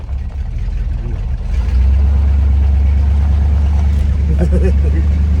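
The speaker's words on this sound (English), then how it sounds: "Mike put me behind the wheel to give it the test drive" An old square body Chevy pickup truck on a test drive gives off a steady low engine rumble from inside the cab that swells louder after the first couple of seconds and holds there.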